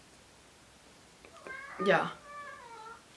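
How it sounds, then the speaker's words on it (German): A tomcat gives a short meow indoors, one clear drawn-out cry after a faint lead-in, with a quieter trailing call and a person's brief voice nearby. "Sitzt da der Kater und miaut mich an."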